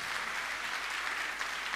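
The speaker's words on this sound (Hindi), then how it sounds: "इनके तालियां तालियां तालियां" An audience at a Jain monk's question-and-answer gathering claps together in a dense, steady wash of applause, moderately distant and even throughout the short burst.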